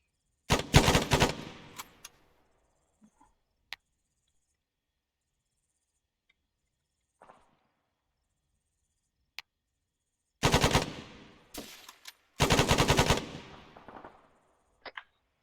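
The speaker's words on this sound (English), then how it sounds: "Firing on him." Rifle fire on a designated marksman training range, with rapid sharp volleys of shots in several bursts separated by quiet gaps, loud and close, plus a few isolated single cracks.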